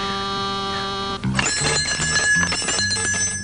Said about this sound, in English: Did you hear bells, BJ?